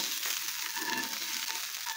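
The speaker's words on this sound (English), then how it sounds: "better turn the heat down a bit and give these a final little stir" Food sizzles steadily in a hot pan and is given a stir, a continuous close frying hiss with soft scraping movement and no talking.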